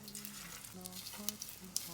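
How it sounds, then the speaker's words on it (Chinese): Flour-dusted tofu slices coated in beaten egg crackle and sizzle in hot oil in a wok, with sharp pops over a soft steady fizz and faint tonal hum underneath. "锅热放油，油热放入豆腐，"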